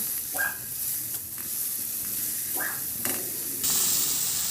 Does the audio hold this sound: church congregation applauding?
no